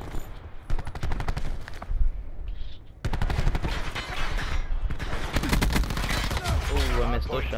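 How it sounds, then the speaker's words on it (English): Rapid automatic gunfire in the video game Call of Duty: Black Ops 4 crackles in dense bursts, near and loud, broken by a short pause, with game voices and a player talking over it. "Ooh, I missed those shots."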